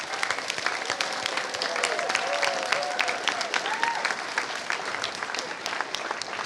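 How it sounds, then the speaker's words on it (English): An audience at a school arts festival's final showcase claps for the parents in dense, steady applause that runs the full length, with a few faint voices murmuring beneath it. "So your parents deserve a big round of applause too."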